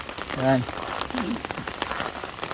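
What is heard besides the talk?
heavy rain falling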